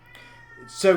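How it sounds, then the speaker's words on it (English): A cat lets out a short meow near the end, sharp and fairly loud, after a brief quiet moment with a faint steady hum. "You'll have to excuse the cat meowing in the background."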